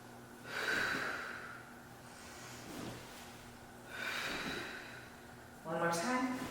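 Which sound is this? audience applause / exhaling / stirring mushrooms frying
exhaling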